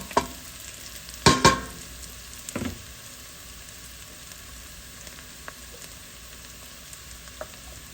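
Lamb for karahi fries quietly in a pan, a faint steady sizzle broken by a few sharp clanks and scrapes of stirring near the start, then mostly soft background frying.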